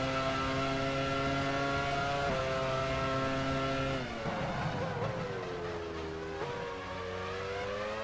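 Race cars in F1 Challenge 99-02 at the 2001 Malaysian Grand Prix, several screaming engines held at high revs, then pitches dropping on a shift as cars overtake and pass close by.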